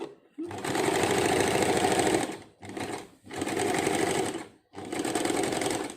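A sewing machine stitches in three separate bursts of fast, steady mechanical whirring and needle clatter, with brief silent pauses between runs, heard up close.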